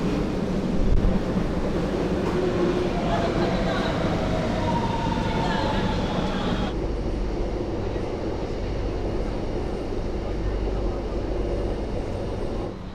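A Shanghai metro subway train runs toward People's Square with a loud, continuous low rumble and rushing roar, then the pitch of the running noise shifts partway through as it travels on steadily.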